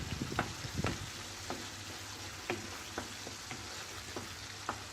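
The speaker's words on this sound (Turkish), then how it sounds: "Şöyle tüm baharatlarımızı döküyoruz." Tomatoes, oil and a full handful of spices fry over lowered heat in a pan, a steady soft sizzle broken by occasional stirring clicks and scrapes, fairly quiet and with no voices.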